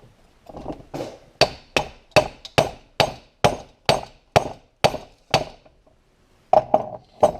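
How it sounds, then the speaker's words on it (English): A hammer taps a Holley carburetor in a quick, even series of sharp metallic knocks, about a dozen in a row, to break a stuck gasket loose, then a short pause and a few more. "Usually tapping them with a hammer usually breaks the gasket loose"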